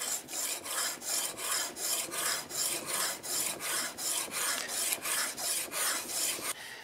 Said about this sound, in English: You just stick down a piece of sandpaper and wade in.